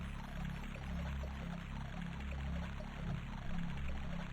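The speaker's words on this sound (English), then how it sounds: "Despite the water having a dedicated sound effect, I don't think it's actually interactable." Continuous, even pouring water from the Ween: The Prophecy adventure video game plays as a steady, soft loop with no other sounds.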